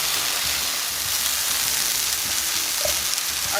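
Tomatoes sear in a pan with garlic added, giving a steady, close sizzling and frying hiss that runs unbroken the whole time, with no voices.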